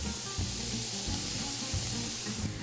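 Shrimp, napa cabbage and other vegetables sizzle in a hot pan with a dense, steady hiss and crackle, close and constant throughout, with no talking.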